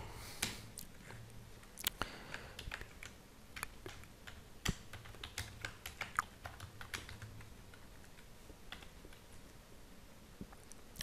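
Fingers type code on a computer keyboard in quick, irregular clicks and keystrokes, quiet and close, with no talking.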